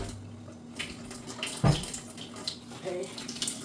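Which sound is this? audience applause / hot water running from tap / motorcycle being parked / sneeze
hot water running from tap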